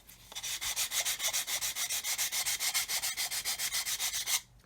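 Sandpaper rubbing down black paint on a plastic Revell 1/144 Apollo Saturn V model kit, a steady run of about two dozen quick close back-and-forth scrubbing strokes, ending abruptly with no talk.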